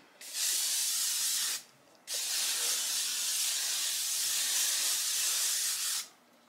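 Two long hissing blasts from an aerosol hair spray can, close up, the first about a second and a half, the second longer, with a short pause between.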